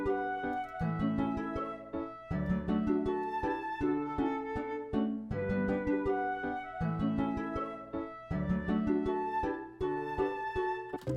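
A personalized theme song for a VTuber plays with full piano chords, strings, harp and melody, loud and continuous with a steady rhythmic pulse and no talking.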